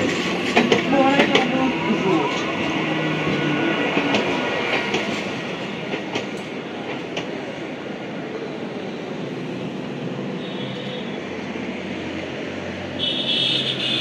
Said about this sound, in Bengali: এটা হচ্ছে বারুইপাড়া লোকাল